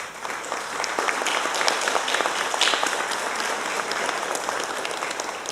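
Sustained applause for pastor Nixon at a church assembly installation ceremony in Belém, a dense steady clapping from a large audience with no talking.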